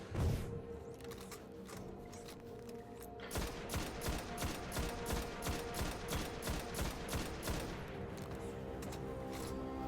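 Weapons fire in Destiny during a Nightfall strike against Sepiks Perfected, heard as a rapid, regular volley of booming shots that holds for several seconds, loud and close, with game effects underneath.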